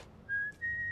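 A person whistles a tune from the film Tazza: One Eyed Jack, a short clear whistled phrase of two sustained notes with a brief dip between them, close and alone.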